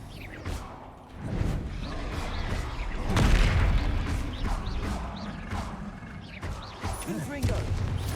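Repeated Descendo spell casts in Hogwarts Legacy land as booming, whooshing impacts amid dense combat noise, with one heavier thud near the middle and a voice speaking over the action.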